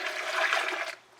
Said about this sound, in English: and I just add the water